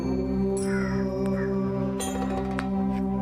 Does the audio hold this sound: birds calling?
yes